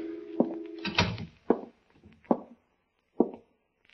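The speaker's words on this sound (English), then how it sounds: "I opened the door and walked in." A door opens in an old radio drama scene, with a clack and a knock-like thump followed by a few hollow footstep-like thuds, close and sparse, with a low hum at the start.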